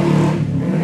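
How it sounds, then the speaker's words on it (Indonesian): A motorbike passes by with a loud, steady engine drone that eases slightly as it goes, filling the short moment alone without talk. "motor langsung lewat."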